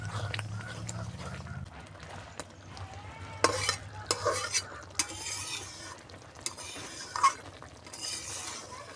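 Fried tengra fish added to a simmering tomato curry and stirred in a pan, soft sizzling with scattered scraping and clinking bursts, fairly quiet overall.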